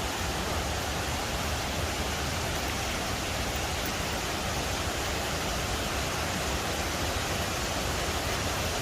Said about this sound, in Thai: ม่านน้ำตกธรรมชาติ ที่เกิดขึ้นเอง แล้วช่วงนี้เป็นช่วงหน้าฝนนะครับ น้ำก็จะสวยงามอย่างยิ่ง